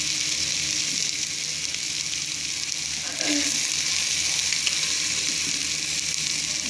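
Whole masoor lentils go into a hot spice tempering, and a continuous loud hiss and sizzle fills the pan, with a brief pouring rustle partway through.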